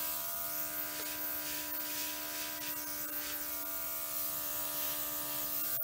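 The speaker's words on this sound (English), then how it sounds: "Now I see one or two spots I need to hit with my airbrush." Close, continuous airbrush hiss with a faint steady hum from the compressor as paint is sprayed onto the edges of a Dutch pour painting, even and unbroken throughout.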